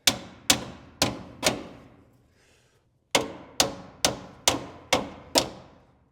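A big hammer strikes a steel part of a custom lift kit being fitted to a Jeep Gladiator, with four sharp ringing metallic blows, a pause, then six more in steady rhythm, loud and close.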